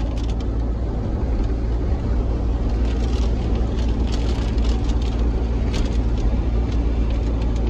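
Volkswagen Gol with a 1.6 AP engine running loud and steady, a heavy low engine drone filling the whole stretch with constant rumble and no clear rev peaks.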